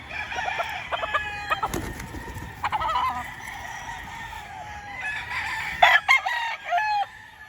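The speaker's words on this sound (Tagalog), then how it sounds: "Mga manok ni Sir B-Boy" Gamefowl roosters, including white kelsos, crow repeatedly nearby and farther off on a gamefowl farm, overlapping calls mixed with short clucks against a low background hum.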